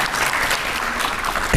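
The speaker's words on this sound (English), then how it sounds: "Give him a round of applause." Audience at a Walking Dead actor panel at the Terrificon 2022 comic convention breaking into a loud, close burst of applause, brief and dense with a thump at the end.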